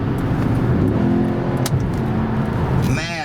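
Engine of a fourth-generation Cadillac Seville pulling steadily while driving, a low continuous drone and rumble heard from inside the cabin under faint road noise, with a brief swell near the end.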